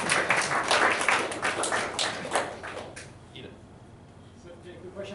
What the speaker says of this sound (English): you can clap for me again